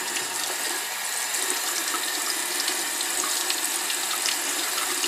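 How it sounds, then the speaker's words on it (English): A brush is rinsed under running tap water, a steady broadband gush of faucet flow that stays constant throughout, close and unbroken, with no voices. "And then run the brush under the water."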